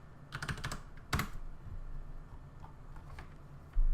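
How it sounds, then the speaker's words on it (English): Bursts of computer keyboard typing as a command is entered at a PC, with a few quick clusters of key clicks separated by short pauses, close and fairly quiet. "open up command prompt, and type in ipconfig"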